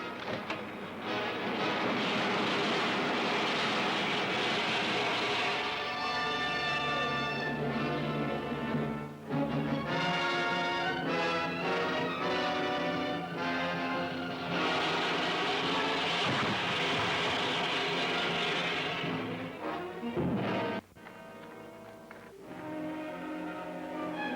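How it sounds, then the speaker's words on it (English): Dense orchestral-style music with sustained rumbling tones plays steadily throughout, scoring a spacecraft landing on Venus in the 1953 film serial Commando Cody, Sky Marshal of the Universe; no voices are heard. "An airborne craft like nothing I've ever seen on Venus is landing at coordinates 7-18."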